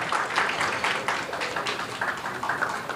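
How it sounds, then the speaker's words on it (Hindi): Crowd applause at a Navratri stage event in Borivali during a felicitation ceremony, steady clapping filling the full stretch at moderate loudness with no speech over it. "तालियां गाइस"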